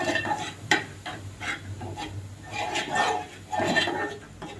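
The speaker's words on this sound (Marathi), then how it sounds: "सगळा मसाला मिक्स करून तेलावर भाजून घ्या" Spoon stirring spice masala as it roasts in oil in a pan for a Ghol fish curry, steady scraping and sizzling strokes close by, continuous throughout without speech.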